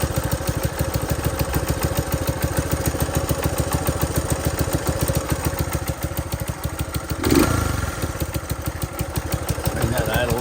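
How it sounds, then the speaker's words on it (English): A 1969 Honda CL90 motorcycle idles steadily with a fast, even putter and mechanical clatter, loud and close, with a brief louder burst partway through. "Idle's starting to settle in now."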